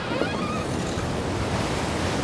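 Big ocean waves surge and crash continuously near a lighthouse in a storm, a loud steady roar of surf with wind noise and no gaps.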